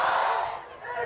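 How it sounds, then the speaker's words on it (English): Loud crowd cheering and shouting at a rainy high school varsity football game near halftime, a dense continuous roar of voices. "we hear the loud crowd"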